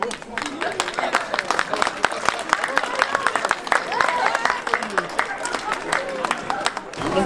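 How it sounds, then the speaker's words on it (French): Dense, steady clapping from an event audience thanking the volunteers fills the whole stretch, loud and close, with a voice talking over it. "les applaudir parce qu'ils le méritent bien"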